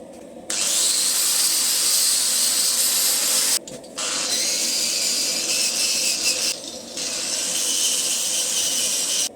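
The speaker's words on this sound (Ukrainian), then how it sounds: "чистити болгаркою" Loud, harsh grinding whine of an angle grinder cleaning a forged steel bottle opener at a forge, running steadily with two brief pauses where the disc lifts off.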